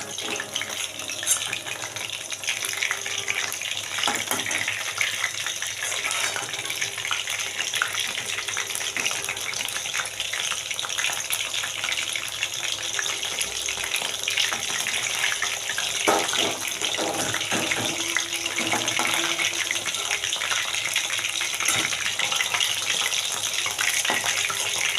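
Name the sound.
chicken pakoras frying in hot oil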